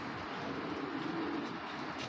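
Soft cooing of a male Shapchila pigeon, a low steady murmur held close and moderately loud through the whole stretch, with no talking.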